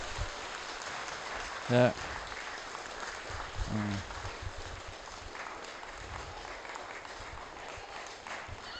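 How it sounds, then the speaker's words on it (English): Audience applause at a Christmas carol service, a fairly faint and steady clatter of clapping running through the whole stretch, with someone speaking briefly over it and a couple of short voiced bursts near the start. "Can you give them a round of applause, please?"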